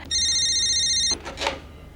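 A telephone rings once with a bright electronic trill lasting about a second, then stops, followed by a brief rustling noise.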